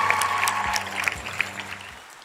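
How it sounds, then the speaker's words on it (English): An audience at the 2017 Black and Gold Awards gives a round of applause, with scattered sharp claps over a low room hum that thin out and fade toward the end. "Let's give them a round of applause."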